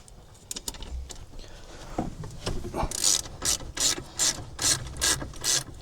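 Hand ratchet loosening 15 mm caliper bolts on a 2004 Chevy Impala during a wheel bearing job, some knocks and handling first, then a series of crisp, regular ratcheting clicks, close up.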